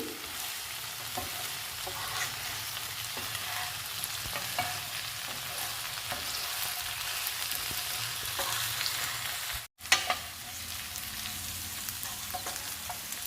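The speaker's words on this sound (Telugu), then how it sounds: "బెండకాయ ముక్కలతో పాటు ధనియాల పొడి, వెల్లుల్లి పేస్ట్ వేయించుకోవాలి. అన్నీ కలిపి వేయించుకోవాలి." Okra pieces fry in a pan with coriander powder and garlic paste, giving a steady, close sizzle with occasional stirring scrapes for about thirteen seconds, broken by a momentary dropout near the end.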